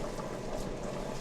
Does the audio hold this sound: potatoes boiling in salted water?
yes